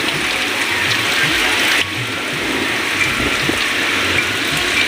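Floodwater rushes steadily through a village canal after a storm, a loud, constant broadband wash of flowing water with no pauses.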